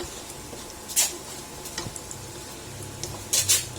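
Kikiam and squid balls frying in a little oil, stirred with a utensil: a faint steady sizzle under a few sharp metallic scrapes and clinks against the pan, two louder clatters standing out.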